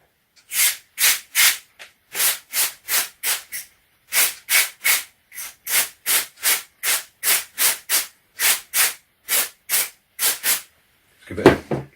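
Silicone lubricant sprayed over an Army Armament L85/R85A1 airsoft gearbox in repeated short hissing bursts, about twenty close, loud spurts in steady rhythm, ending in a brief handling clatter.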